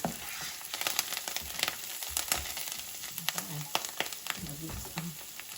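Steady crackling sizzle of food sauteing in a hot pan for spaghetti aglio e olio, continuous and fairly close, with occasional stirring clatter and faint voices in the background.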